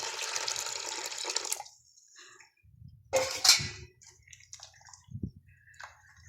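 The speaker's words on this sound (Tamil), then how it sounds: "இப்போ இதில் கொஞ்சம் புளி தண்ணி ஊற புளி ஊறப்பட்டோம்ல அந்த தண்ணியையும் கொஞ்சம் ஊற்றிக்கலாம்" Tamarind water is poured into a vessel in a short, steady splashing stream. Quiet follows, with a few soft clinks and small drips close by.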